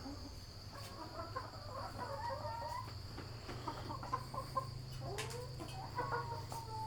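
Several chickens cluck and murmur close by in irregular bursts over a steady low hum and a constant high insect-like whine.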